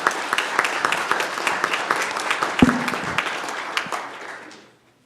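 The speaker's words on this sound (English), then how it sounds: "Little round of applause, don't be afraid." A small crowd at a city council meeting claps steadily for a few seconds, the applause dense and fairly close, then fading out toward the end.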